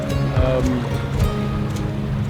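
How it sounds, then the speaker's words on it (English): A sailboat motoring on the Sound of Mull in calm, windless autumn weather, its engine holding a steady low drone with water washing along the hull, continuous and fairly loud throughout. "So we're motoring and it's a beautiful day."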